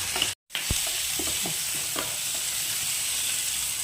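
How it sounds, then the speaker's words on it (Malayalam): Garlic, onion and tomato sauté with salt in a pan for a chutney, giving a steady close sizzle broken by a brief dropout and a few sharp spatula knocks and scrapes. "ഇനി ഇതൊന്ന് വഴറ്റിയെടുക്കാം."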